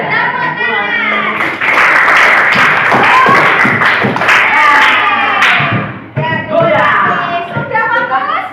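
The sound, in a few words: clapping hands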